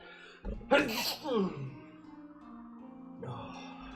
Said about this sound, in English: Although, I gotta sneeze.